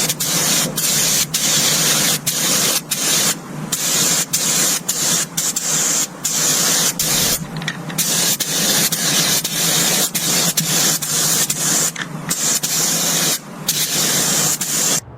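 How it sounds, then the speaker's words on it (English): Primer sprays onto the bare metal of an old Saurer bus being restored, a loud, close, continuous hiss broken by short pauses between passes, with no talking. "So this primer lays down really smoothly, gets great coverage."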